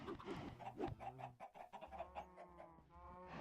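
Chickens in Minecraft cluck and squawk in short, rapid bursts, close and fairly clear, with soft background game ambience.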